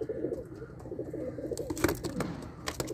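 Soft, low pigeon coos murmuring quietly, mixed with a few sharp clicks and rustling noises nearby.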